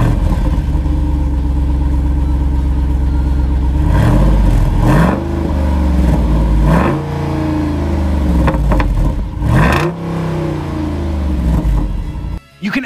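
A 6.4-liter Hemi V8 in a 2024 Jeep Wrangler rumbles loudly with a deep exhaust note, revving up and down several times in quick bursts, close by.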